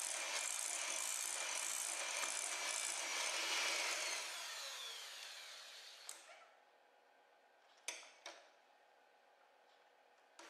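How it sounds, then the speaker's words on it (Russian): An electric hand mixer runs at top speed whipping meringue, a loud close whirring buzz that winds down after about five seconds, followed by quiet and a few sharp clicks and knocks. "Миксер работает на максимальных оборотах"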